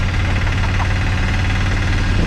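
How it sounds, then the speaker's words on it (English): A tuk-tuk's small engine chugs along on a town road, a loud, close, steady rattling putter with a knocking pulse that never lets up. "On our way back now, this cool tuk-tuk."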